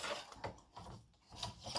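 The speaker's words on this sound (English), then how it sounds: "color number 9, is going to go around and stitch all this down" An embroidery machine stitching down the side panels of an in-the-hoop mug rug gives faint, rhythmic mechanical pulses that repeat steadily, with no talk.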